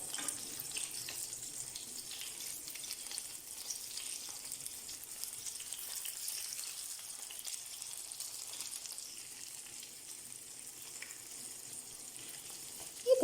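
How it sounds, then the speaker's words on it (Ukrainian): Faint, steady hiss and crackle of chopped chicken cutlets frying in a pan, continuous and quiet throughout with no talking. "тепер обжарюємо з другої сторони теж до золотистого кольору"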